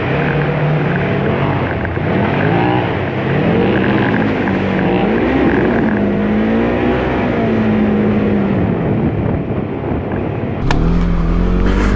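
A Polaris RZR Trail off-road buggy with a narrow track drives along with a steady loud engine drone, revving up and down through gear changes, heard from on board.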